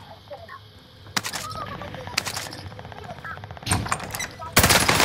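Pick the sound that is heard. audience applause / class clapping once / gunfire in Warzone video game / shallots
gunfire in Warzone video game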